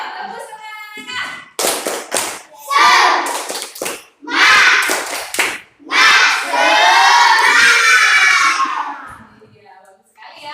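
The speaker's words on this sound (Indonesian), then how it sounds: "Ayo tepuk semangat dulu dong." Children in a classroom clapping and shouting a spirit chant together, loud and close, with rhythmic hand taps between bursts of group voices.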